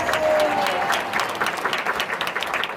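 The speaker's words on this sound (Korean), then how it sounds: "우리 귀한 말씀 전도해 주신 목사님께 다시 한번 감사의 박수" Congregation applause for the pastor at a Sunday joint worship service in Seoul, a steady wash of many hands clapping that stays loud throughout, with a faint tone lingering early on.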